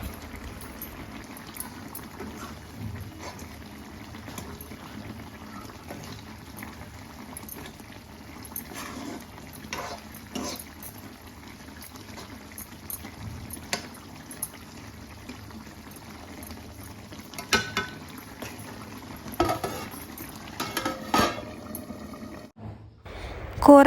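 Vada curry simmering in a pot on the stove, a steady low bubbling with faint pops and small clinks throughout, quiet and close, with no speech.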